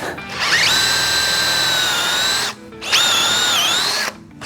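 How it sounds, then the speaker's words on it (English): A power drill bores a hole in a piece of wood in two loud, close bursts, a long whining run and then a shorter one, separated by a brief pause. "I'm going to drill a hole in this piece of wood for the drain plug to go in."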